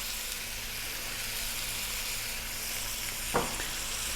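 Soup ingredients sizzle and fry steadily in a pan over high heat, a continuous close hiss with one brief clatter of stirring near the end.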